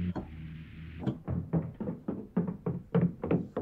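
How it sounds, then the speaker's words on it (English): A Mellotron M4000D plays its footsteps sound effect, a run of about a dozen soft, evenly paced thuds in a walking rhythm, fairly close and alone. "Footsteps."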